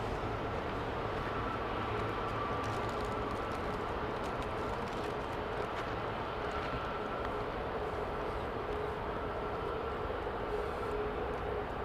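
An aircraft on its takeoff roll at Heathrow Airport, heard as a faint, distant, steady jet roar that holds evenly across the whole stretch without any clear speech.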